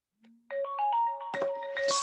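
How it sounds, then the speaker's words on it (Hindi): A phone rings with an incoming call during a machine design lecture, a bright electronic ringtone melody that starts abruptly and plays loudly and alone for a couple of seconds. "2 सेकंड, एक फोन कॉल आ गया"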